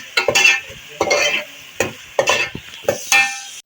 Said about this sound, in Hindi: और इसको हम फ्राई कर लेते हैं।